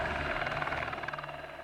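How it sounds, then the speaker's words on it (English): A search helicopter flying overhead, its rotor thudding in a fast, even pulse that stays loud and near through the short stretch. "So they sent a helicopter up to look for Shane."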